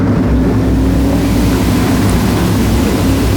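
OSCAAR modified race cars with lots of horsepower and heavy left-side weight race at Sauble Speedway in a loud, steady, continuous engine roar that fills the whole stretch without pause.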